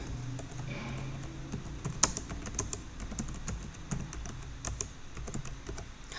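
Someone types a search topic on a computer keyboard, producing a quiet, uneven run of light key clicks with a few sharper taps and short pauses, heard alone.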